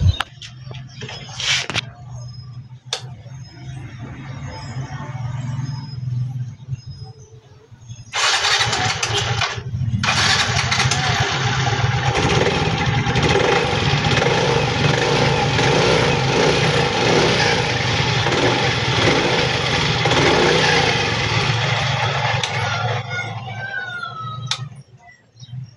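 A Yamaha Mio i 125 scooter engine is started after wires and a hose are refitted. A few short cranking attempts lead into a steady idle that runs loud and close for most of the clip before cutting off near the end.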